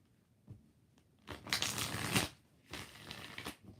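Tarot cards being shuffled, three bursts of dry riffling and crinkling, with a faint tap first and then two longer, louder shuffles close up. No one speaks.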